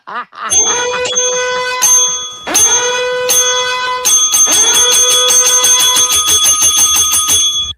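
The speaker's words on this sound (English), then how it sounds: "ring that bell down there" A bell rings out clearly in several bright, sustained strikes, each tone lingering and overlapping the next, loud and close throughout.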